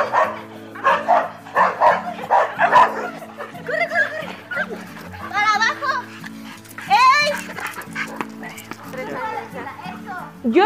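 Several dogs bark and yip repeatedly in short bursts, fairly close, mixed with children's voices, with a steady low hum underneath.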